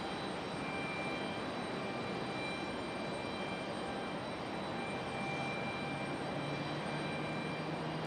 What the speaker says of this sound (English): That one an A320-200. Getting ready for departure.